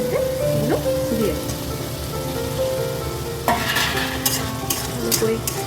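Fried mushrooms are stirred into cooked-down masala in oil, a spatula scraping and sloshing through the thick mix over a low sizzle, with heavier stirring strokes in the second half; a faint voice sounds under it early on.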